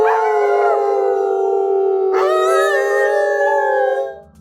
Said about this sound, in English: the one that I experienced was a family bonding howl.